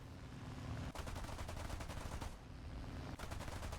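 Bristol Beaufighter Mk 21 guns firing on a BF-109 during a diving attack in a flight game, rapid continuous bursts chattering loudly over steady engine drone, two long volleys separated by a short pause.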